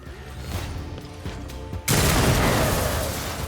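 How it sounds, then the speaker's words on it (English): A stun grenade goes off in Rogue Trader: after a quieter stretch of battle noise, a sudden loud blast erupts and lingers as a harsh, wide wash of sound. "A double stun grenade at me, huh?"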